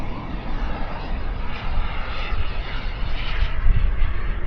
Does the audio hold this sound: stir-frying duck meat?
no